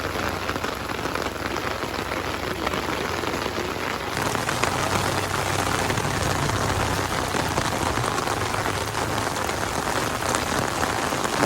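Heavy rain falls in a steady, dense hiss on a mountain road between Dieng and Sikarim, pouring without pause and close by throughout, with no voices over it.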